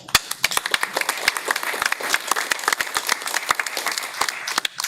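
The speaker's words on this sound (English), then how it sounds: "I just want a round of applause for Ryan for being up there." A small support-group audience applauds Ryan with scattered, uneven claps, individual hand strikes standing out sharply against a thin wash of clapping, close and moderately loud throughout.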